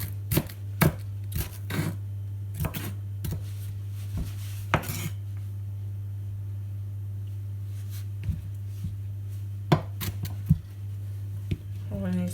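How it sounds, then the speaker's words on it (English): Knife chopping onion on a kitchen cutting board while making beef burgers, with sharp irregular chops in bursts under a steady low hum and some talk. "because the onion fell apart, we're just gonna have to chop it this way"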